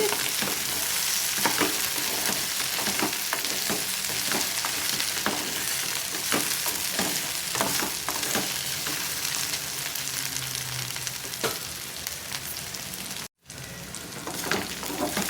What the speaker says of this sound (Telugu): ఇలా తిప్పుకుంటూ ఫ్రై చేసుకోవాలండి